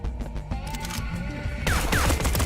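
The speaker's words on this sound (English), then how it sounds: "Go ahead and shoot your weapon again, Craig." Gunfire from a weapon in Dust & Neon, a rapid run of sharp, loud shots in quick succession followed by a heavier burst, close and with no talking.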